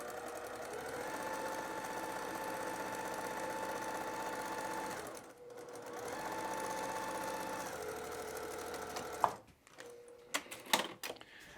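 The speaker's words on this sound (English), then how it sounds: "And now as I'm sewing here" A sewing machine stitches fabric in two long, steady runs of fast, even whirring close up, each ending in a brief pause, followed by a few scattered clicks and fabric handling.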